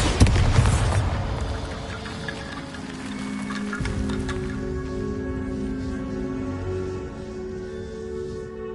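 A Bombarda spell explosion in the video game Hogwarts Legacy gives a loud booming burst at the start, which rings on under sustained tonal game music and a low rumble.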